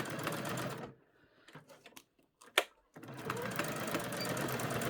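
Sewing machine stitching sparkly fabric: a steady whirring run, a short pause with a few clicks, then the motor racing again for another fast run.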